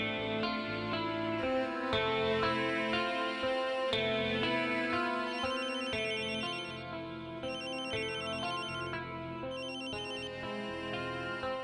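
A cell phone rings indoors with a bright, repeating synthesized ringtone melody that plays loudly and steadily for about twelve seconds with no one speaking.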